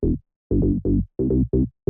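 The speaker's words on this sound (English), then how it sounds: "It's a serum preset called Bass Bake." A deep, resonant saw and square bass from the Serum synth preset Bass Bake, for minimal deep house, plays short punchy staccato notes in a syncopated rhythm, loud and alone with silent gaps between hits.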